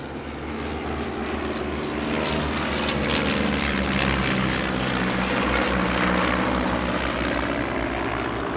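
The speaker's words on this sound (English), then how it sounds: "our next display item is the Stampe Formation Flying Team" Stampe biplanes of a formation flying team performing an airshow display at the Shuttleworth Vintage Airshow, their propeller engines droning loudly and steadily overhead, swelling slightly as they pass, with no voices.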